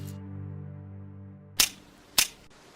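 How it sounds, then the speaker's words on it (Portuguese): Two sharp gun clicks or shots from a Batman scene, about half a second apart, each loud and abrupt, following a steady low tonal hum with no talk. "quando aponta a arma para ele e aperta o gatilho"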